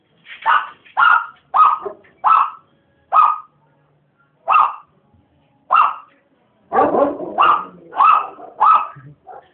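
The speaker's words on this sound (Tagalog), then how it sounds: "Marami pang aso." Sharp, repeated dog barks ring out one at a time with short gaps, then a quicker cluster of barks from more than one dog near the end.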